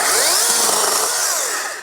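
A DEWALT 20V Max 8-inch battery pruning chainsaw cuts through a tree limb, a loud, close, steady high-pitched buzz that holds evenly, then eases slightly as the cut finishes.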